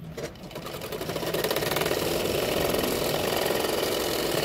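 A sewing machine stitches a blouse, its motor spinning up within the first second into a steady, fast rhythmic whirring hum that runs on evenly, close by and with no talking.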